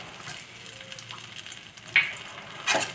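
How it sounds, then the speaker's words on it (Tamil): Cumin seeds and green chilli sizzle softly in melted butter in a pan, a gentle crackling fry with a couple of brief louder spits near the end. "வெண்ணெயை இப்போ போட்டிருக்கேன் நான் ஜீரகம் போட்டாச்சு"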